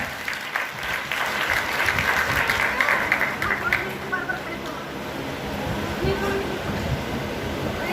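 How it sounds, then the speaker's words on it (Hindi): Audience claps loudly to welcome an actor playing Birsa Munda at a Bhim Sankalp Diwas play in Morna, Noida; broad sustained applause with voices mixed in beneath it. "जोरदार ताली बजा करके स्वागत करिए भगवान बिरसा मुंडा जी का"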